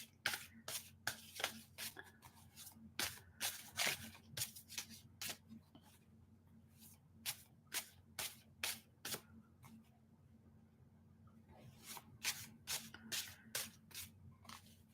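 A deck of tarot cards is shuffled again and again, making crisp rapid riffling bursts in a steady rhythm close up, over a constant low electrical hum with brief pauses between shuffles.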